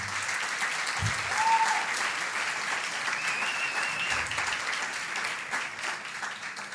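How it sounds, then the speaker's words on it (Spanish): Steady applause from a large church congregation fills the space continuously, with a brief cheer or voice rising faintly above the clapping. "Vamos a darle un fuerte aplauso al Señor."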